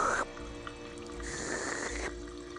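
A voice imitates someone gulping and slurping from a water fountain in the point-and-click game Thimbleweed Park. Wet, snorting swallows run continuously for a few seconds at a steady, close level.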